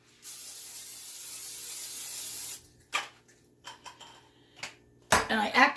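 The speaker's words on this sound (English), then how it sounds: "Now I'm going to spray my pan again." A steady hiss of cooking spray onto a pan lasts over two seconds, followed by clattering pan and kitchen handling noises.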